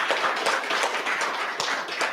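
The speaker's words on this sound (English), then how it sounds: "can we give him another round of applause" Audience applause at a 30 years of democracy celebration, a short burst of dense hand clapping from a crowd, steady and fairly close, with no talk over it.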